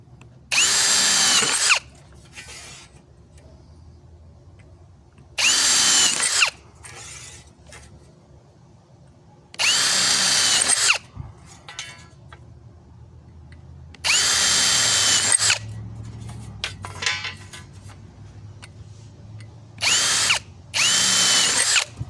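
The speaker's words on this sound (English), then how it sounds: "So I'm going to go ahead and drill these." A power drill drills holes in greenhouse wire lock, whirring loudly in repeated bursts of a second or two, separated by quieter pauses with faint handling clatter, close by.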